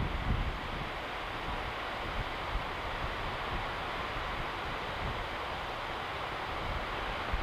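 Steady side wind buffets the microphone at an FPV drone flying site, a constant, fairly quiet broadband rush with low rumbling gusts and no voices.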